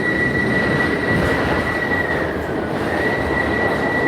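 A train rides along its rails with a constant loud rumble and a steady high wheel squeal, heard from inside the carriage with no talk.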